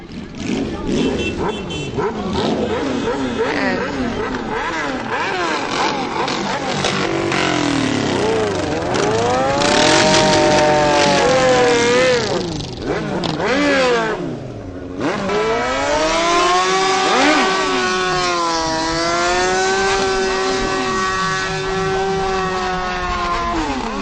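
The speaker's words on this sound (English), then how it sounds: "We're revving their engines today." Just under a dozen motorcycles in a street parade rev their engines loudly and continuously, their pitch sweeping up and down in overlapping roars.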